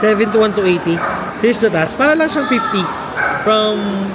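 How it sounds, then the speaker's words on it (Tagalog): A dog barks in short yips and whimpers close by, heard intermittently beneath a person talking steadily throughout. "sorry yung ingay ng aso"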